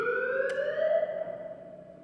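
An electronic alarm wails steadily and loudly in a rising, sustained tone during a live book presentation at a book fair, with a brief click near the start and no talking.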